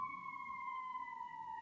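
A steady wailing emergency siren from passing ambulances, a single sustained tone drifting slowly downward, fairly loud and uninterrupted for a second and a half with no talking.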